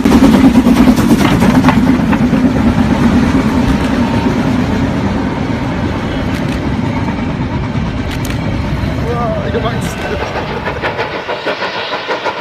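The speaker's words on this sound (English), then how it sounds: "a German tank engine shunter takes some coaches to Tidmouth station" A German tank engine shunter hauls coaches toward a station, a steady rumbling rattle of rolling stock with rhythmic clanking, fairly loud throughout and easing slightly near the end.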